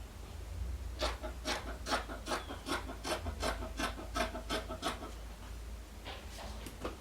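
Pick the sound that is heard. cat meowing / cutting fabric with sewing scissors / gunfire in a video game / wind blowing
cutting fabric with sewing scissors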